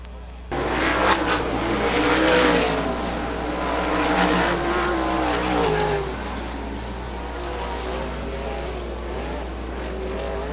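Race cars at the start of a race roar past close by, their engines droning loudly and then fading somewhat. A commentator's voice runs beneath the engine noise.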